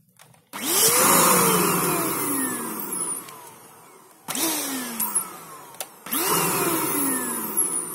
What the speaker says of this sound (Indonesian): jadi untuk UV uh, eh, Superman vakum ini dia cukup ngambang aja seperti biasa